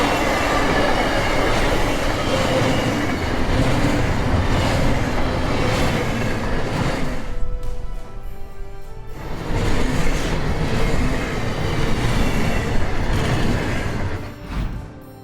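A 2,800-foot BNSF freight train led by an EMD SD75I locomotive sweeps through a curve in Illinois, a loud continuous rumble of rolling wagons with wheel squeal and clatter, briefly dipping midway before surging again.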